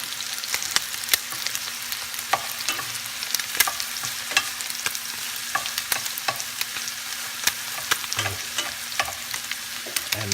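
Fried rice seasoned with Kikkoman soy sauce sizzles steadily in a hot pan, with frequent sharp scrapes and clacks of a utensil stirring it, close and continuous with no talking.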